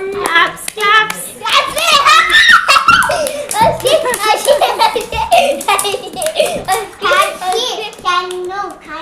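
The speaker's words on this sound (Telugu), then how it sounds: "క్లాప్స్." Hands clap in a burst of applause for a child who won a pani puri challenge game at home, the claps mixed in under lively, nearly continuous children's chatter and excited voices.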